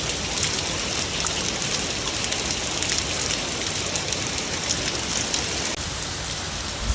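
Steady heavy rain pours down, a dense continuous hiss with drops pattering on surfaces throughout, loud and close, with no voices.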